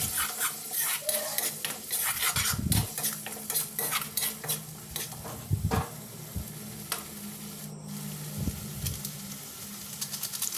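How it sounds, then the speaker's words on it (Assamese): Vegetables with spices frying in a pan while being stirred, a low steady sizzle under repeated scraping and clinking of a utensil against the pan, close and irregular, with a few sharper knocks. "আৰু এইখিনি এতিয়া মই ভালকৈ লৰাই দিম।"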